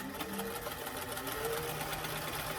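A sewing machine runs a steady fast stitch along a quarter-inch seam on a doll dress, a continuous whirring rattle without pause at close range.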